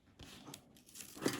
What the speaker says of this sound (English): peel the tape off